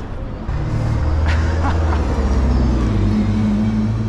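A large bus arriving on a residential street in the Paris suburbs, its deep engine rumble swelling and holding steady, loud and close for several seconds.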